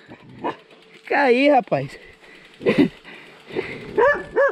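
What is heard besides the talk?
dog barking at a cyclist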